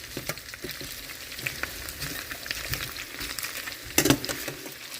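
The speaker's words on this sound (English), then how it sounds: "Stir them, mix them together, get all the good flavors going." Sliced potatoes sizzle in a frying pan as a utensil stirs and mixes them, producing a continuous crackle with scattered close scrapes and clatters and a sharper burst near the end.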